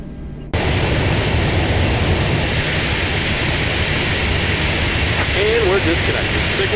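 Boeing 737-700 jet engines taxiing in a flight simulator game, a loud, steady broadband roar that starts abruptly and holds throughout, with a faint voice underneath.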